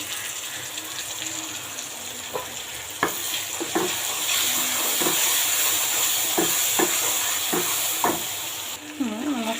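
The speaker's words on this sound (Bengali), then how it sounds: "আদা রসুন কষা হয়ে গেছে" Ginger-garlic paste and spices sizzle and fry steadily in a pot for bhuna khichuri, with a spoon scraping and stirring in several sharp knocks over the constant hiss.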